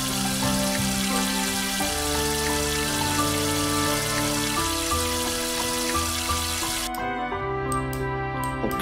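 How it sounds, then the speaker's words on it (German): Steady broadband hiss of water running from a faucet into a sink in a video game, continuous and fairly loud under a layer of music, cutting off near the end. "Machen wir erstmal Wasser vom Wasserhahn."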